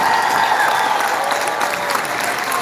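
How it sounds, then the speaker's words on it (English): A concert audience applauds a band at a show, dense sustained clapping from a large crowd filling the space evenly and loudly throughout. "How about a round of applause for this amazing band, everybody? Put your hands together."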